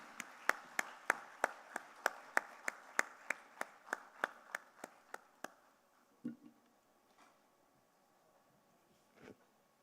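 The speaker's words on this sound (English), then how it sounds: "A huge round of applause" Audience clapping at a G20 energy transitions workshop on international finance comes as a quick string of crisp, regular claps in near unison. It is faint and distant, fades out after about five seconds, and gives way to a quiet room with a few stray knocks.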